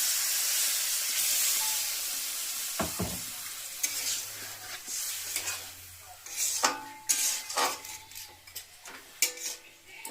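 Broth pours into sizzling braised chicken curry with green chilli, bursting into a loud hiss that settles into bubbling simmer, broken by spoon-scraping stirs and pot clinks.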